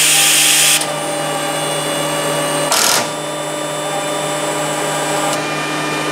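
A FlexArm pneumatic tapping arm with a semi-automatic tap lubrication system gives a steady mechanical whir and hiss that changes at one point, with a brief burst of air partway through. No one speaks.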